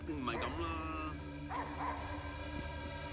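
A dog in the video game Slitterhead barks and whimpers in short yips and whines, fairly faint, while a person talks over it.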